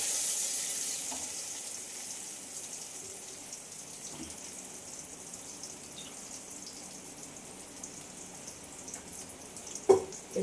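A paste of poppy seed and cashew ground with green chili fries in a pan, giving a soft, steady hiss and sizzle with faint occasional ticks and a small clatter near the end, no voices.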